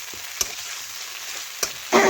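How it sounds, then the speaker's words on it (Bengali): Chopped onions with garlic, ginger, cumin, pepper and green chili paste stir-fried in a pan for a Bengali chicken curry, with a soft low sizzle broken by two sharp spatula scrapes and a louder burst of frying at the end. "একটু পেঁয়াজের সাথে নাড়াচাড়া করে মিশিয়ে নেব।"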